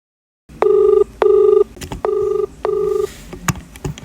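A phone call being placed: a short dialing burst, then repeated ringback tones in an even pattern, two long rings followed by two more, close and clear with small clicks and bumps between.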